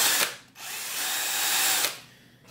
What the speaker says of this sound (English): So I got cordless drill, polishing wheel, white compound.